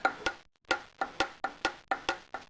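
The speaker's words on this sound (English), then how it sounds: "grabbed the rods and tried to wiggle them, and I got to this one" Rhythmic metallic knocking from a worn connecting rod bearing in a Slant Six engine as the rod is wiggled by hand, about ten sharp clicks in quick pairs, close and alone with no talk.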